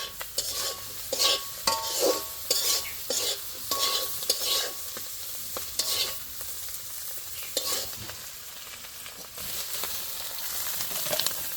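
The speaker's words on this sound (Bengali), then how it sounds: "তো চিংড়ি মাছ ভাজা হয়ে গেছে," Fried shrimp are stirred and scooped out of a pan of hot oil, with a steady sizzle and a series of close metal scrapes and clinks from the spatula.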